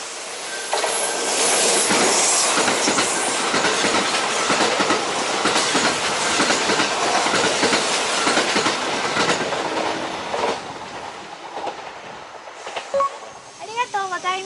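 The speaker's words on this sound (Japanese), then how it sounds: "2番乗り場の電車にご注意ください。" A Kintetsu Shima Line train passes loudly through a station, its wheels clattering and rumbling steadily with a hissing, squealing edge, then fading toward the end as a few faint voices come through.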